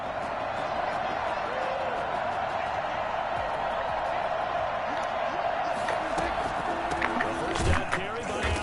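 Stadium crowd noise in the Madden 21 football video game, a dense continuous roar of cheering that swells near the end, steady and loud behind commentary.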